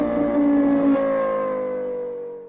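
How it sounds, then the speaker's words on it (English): A 2023 Ford F-150 Raptor R's 5.2L supercharged V8 fires up with a loud, close roar and supercharger whine, then settles and fades into a smooth idle, with no one talking. "There's the push button start."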